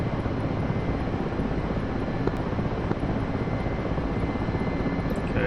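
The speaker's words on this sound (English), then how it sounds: "the Mi-8 is such a cool helicopter" A Mi-8 helicopter in the DCS flight simulator drones steadily, its engine whine and rotor wash forming a constant, even roar with no talk over it.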